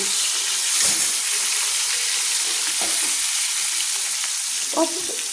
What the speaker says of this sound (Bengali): মাছগুলো হালকা হালকা লাল লাল করে ভেজে নিয়েছি এক পিঠ